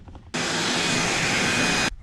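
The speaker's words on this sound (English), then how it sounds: "Then I'm gonna give it a little quick vacuum here." A small vacuum cleaner runs over model railroad track on a Woodland Scenics Grand Valley layout: a sudden switch-on into a steady, close, whining whoosh lasting about a second and a half, then cutting off abruptly.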